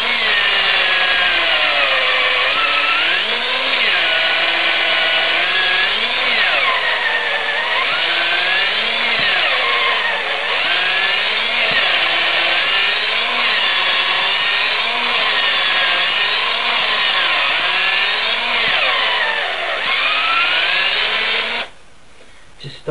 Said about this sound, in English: now you just need to drill all the way down until it hits about there